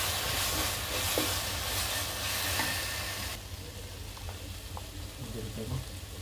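A tomato and papaya curry with salt is stirred in a pan, giving a steady sizzling hiss broken by soft scraping and clinking from the spoon. The sizzle is louder at first, then quieter and more intermittent.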